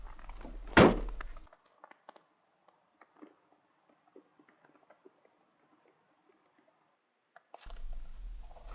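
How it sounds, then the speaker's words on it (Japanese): A car's rear hatch door is shut during a heavy snowstorm in deep snow country; a loud thunk near the start, then near silence with faint ticks, and wind noise returns at the end. "たまらずバックドア閉めます。"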